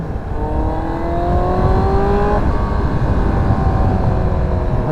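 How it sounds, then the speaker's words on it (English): A Yamaha R1 sport motorcycle engine runs steadily close by, its pitch rising as it revs before settling into a sustained, strong drone with no talking. "And the bike seems to be running pretty good."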